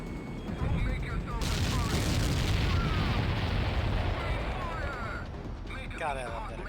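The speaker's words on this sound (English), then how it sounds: "God, I love that explosion sound" Explosion in the video game Ace Combat X: a heavy, sustained roaring blast that fills several seconds before tapering, with game voices and effects mixed in.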